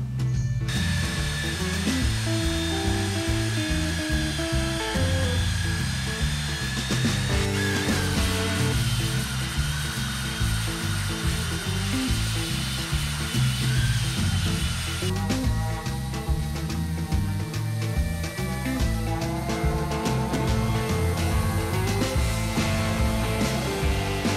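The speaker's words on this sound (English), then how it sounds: "I'll get the belt sander, we'll tidy all of this up" A belt sander runs continuously and loud on a plywood scarf joint for a boat build, a steady mechanical whir with shifting grinding tones as the sanding goes on.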